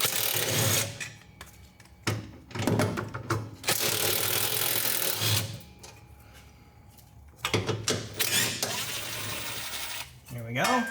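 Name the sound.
removing 12mm fasteners from Toyota Tacoma fuel tank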